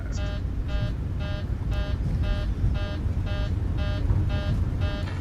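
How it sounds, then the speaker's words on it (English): Warning beeps from a flight simulator video game cockpit: about ten evenly spaced, bright electronic tones repeat in a steady rhythm over a constant low engine-like rumble, with no talking. "I don't know why that's beeping"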